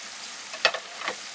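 Chicken karahi frying in a pan as chopped tomatoes go in, a soft steady sizzle with a few quick stirring scrapes, quiet and close without voices.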